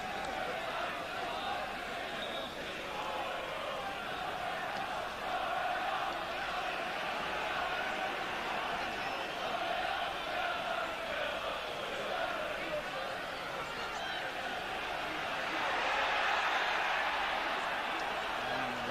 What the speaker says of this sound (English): the immense annoyance of this noisy St James's Park crowd